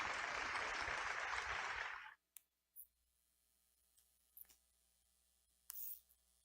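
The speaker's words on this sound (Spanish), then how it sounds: "Vamos a aplaudir al Señor." A church congregation claps together for about two seconds, then the applause cuts off, leaving a quiet room with a few isolated clicks and knocks.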